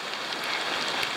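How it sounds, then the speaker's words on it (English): Steady rain falls on a mountain trail along the Mountains to Sea Trail while backpacking, a dense, even hiss of drops with no breaks, no voices and only faint brighter splashes. "It's raining"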